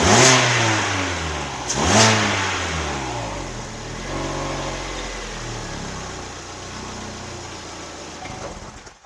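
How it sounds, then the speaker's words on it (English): A Chevrolet Sonic's engine revs hard twice in quick succession, then settles into a steady, loud idle with a lingering rumble. "I think we can give it a rev."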